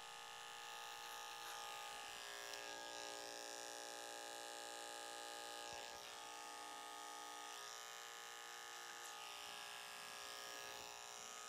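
A detachable blade hair clipper buzzes with a steady high-pitched electric whine while cutting hair, faint and continuous, with slight dips as it moves through the hair.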